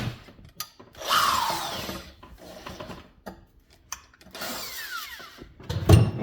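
A power drill bites through a vintage McGraw-Edison box fan blade resting on a cheap plastic table, in short whining bursts with rubbing and clicking in between, close and moderately loud.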